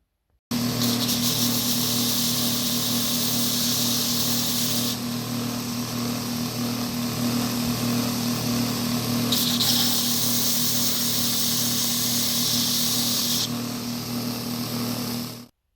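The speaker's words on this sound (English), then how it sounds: "Time to do a little sanding, make it completely cubical." A power sander runs continuously at close range with a steady whine and hum, its hiss rising louder in two stretches as it bears down on the wood.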